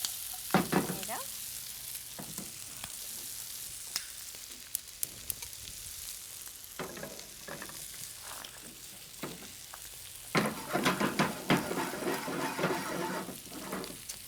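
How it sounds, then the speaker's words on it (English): Fingerling potatoes fry in hot olive oil with a loud, crackling sizzle that comes in bursts as they are tossed and stirred in the pan, and a few sharp clinks and clatters sit between the louder stretches. "We're gonna just cook these with olive oil, some salt, pepper."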